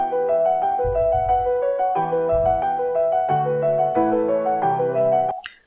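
An isolated piano part split out from an AI-generated song plays a steady melody over chords with some faint low bleed, clear and close, before ending abruptly with a brief click.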